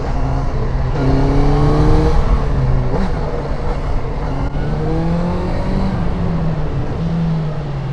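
A motorcycle engine drones close up while being ridden along a curving road, its pitch rising and falling in smooth sweeps as the throttle opens and eases.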